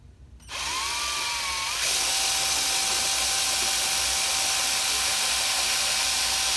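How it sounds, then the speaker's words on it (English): A power drill whirs steadily and loudly at low speed after a brief quiet start, drilling a Technics turntable dust cover hinge bracket, its pitch rising slightly as it runs continuously. "You want to try to keep the drill level"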